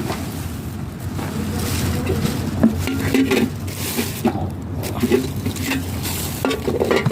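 Deep plates are handled in a cluttered setting, with repeated clinks and knocks of dishware over a steady rumbling background, close and moderately loud, no talking.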